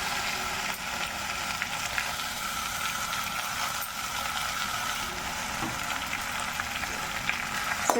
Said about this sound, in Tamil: இப்போ நம்ம அந்த கீரை இதில் சேர்த்துக்கலாம்.